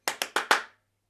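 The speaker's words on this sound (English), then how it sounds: "And finally, four claps." Four sharp hand claps in quick, even succession, close and clear, the last one slightly louder, then silence.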